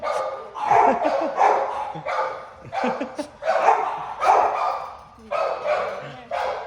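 A young Shih Tzu of about ten months barks in repeated short bursts, close and loud, with some yips between, in an animal rescue setting.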